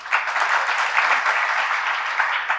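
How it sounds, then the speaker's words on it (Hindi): A congregation at a Jain sermon by Sudha Sagar Ji Maharaj breaks into steady, dense applause. The clapping is loud and continuous, a uniform wash of many hands with no voices over it. "तालियां मत बजाओ"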